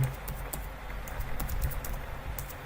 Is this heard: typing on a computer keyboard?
yes